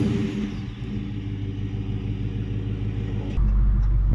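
A 2022 Dodge Charger Daytona with a 5.7 Hemi V8 idles with a steady, deep low rumble, then the engine note swells louder and heavier near the end as it catches and revs up.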